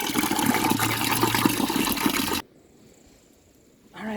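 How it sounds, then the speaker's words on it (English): Running water gushes loudly from a tap as a coconut is rinsed for Jamaican stew peas, then cuts off abruptly, leaving near silence before the flow briefly resumes. "I'm going to wash up the coconut now"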